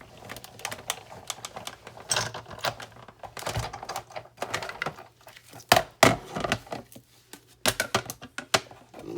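Die-cutting machine cranked by hand to cut card through a plate sandwich, giving irregular clicking and clunking knocks and ratcheting taps at close range, with no talking.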